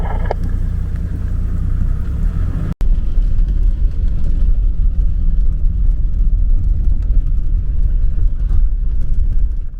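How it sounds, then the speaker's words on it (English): One vehicle in a convoy of 19 driving the Mount Selwyn Track in the Victorian High Country, with a steady, loud engine rumble and road noise from inside the vehicle, broken by one sharp knock early on. "we're but in a convoy of 19 vehicles coming towards you on Mount Selwyn Track"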